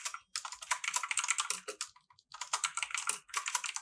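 Rapid typing on a computer keyboard while building a WordPress post type, with dense, irregular clusters of key clicks and a couple of brief pauses, close and fairly quiet.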